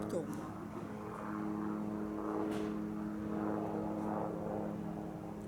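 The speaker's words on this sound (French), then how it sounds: "Je laisse passer l'avion." Airplane passing overhead outdoors in late sunlight: a steady low propeller drone with a tonal hum, moderately distant and continuous, with a voice speaking at moments.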